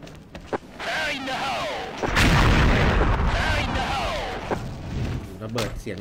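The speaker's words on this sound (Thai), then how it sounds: "ระเบิดเสียงดังลั่นมากครับ" A loud, booming explosion from the online shooter game XSHOT Online, a heavy thud with rumbling tail amid scattered gunfire and game effects, while an announcer talks continuously over it.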